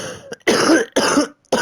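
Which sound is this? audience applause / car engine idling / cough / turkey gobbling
cough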